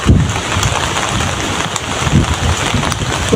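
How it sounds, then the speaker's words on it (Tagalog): Steady rain hiss at Tabon Cave in Quezon, Palawan, with low rumbling gusts swelling and fading beneath it; no voices. "Kasi maulan."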